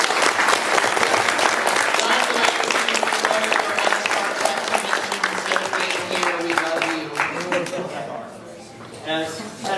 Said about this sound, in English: let's give it a nice round of applause